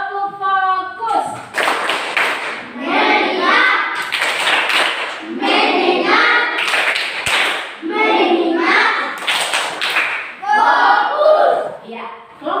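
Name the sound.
class doing the 'tepuk fokus' clapping chant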